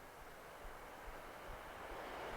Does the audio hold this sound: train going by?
yes